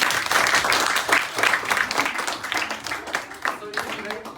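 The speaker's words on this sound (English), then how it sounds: "Please clap for yourself." Students in a physics class clap for themselves, a brief patter of hands that thins out within a few seconds while voices talk over it.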